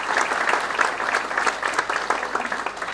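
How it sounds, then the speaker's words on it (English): A concert audience at Limerick Legends gives a round of applause, a full, even wash of many hands clapping, close and sustained with no voices over it. "Can you give him a round of applause?"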